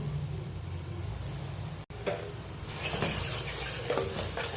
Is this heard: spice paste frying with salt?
yes